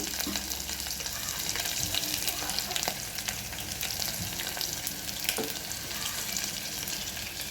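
Garlic frying in a pan while making dal, with a steady, close sizzle and crackle running the whole time and a few sharper pops and stirring scrapes, no voices.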